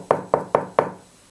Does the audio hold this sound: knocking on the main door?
yes